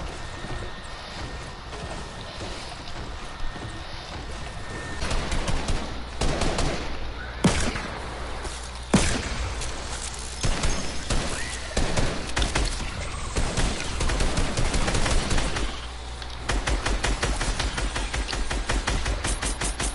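Video game gunfire rattles in rapid bursts and single cracks, loud and close, over a busy mix of game effects including horse neighs and hoof clops, with no talking.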